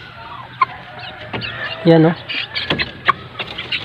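Chickens sick with fowl pox cluck nearby in short bursts, while a person talks over them.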